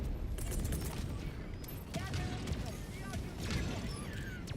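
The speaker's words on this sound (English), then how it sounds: "Ooh, great strafing run opportunity." Strafing run gunfire in Helldivers 2, a dense rumble of rapid shots and impacts spread across the moment, moderately loud and mixed with other battle noise.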